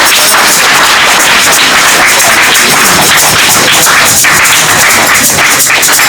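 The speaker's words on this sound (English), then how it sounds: "I want to all the mothers that they must give themselves the hands of applause" Applause from an assembly crowd, a dense, loud wash of many hands clapping with no clear individual rhythm, steady from start to finish.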